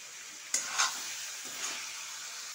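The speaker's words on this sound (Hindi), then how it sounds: "मैंने 2 से 3 सेकंड तक इसे अच्छे से कढ़ाई में सौते कर लिया है" Diced potatoes being sautéed in a kadhai, with a soft steady sizzle and a few sharp scraping stirs of a spoon against the pan.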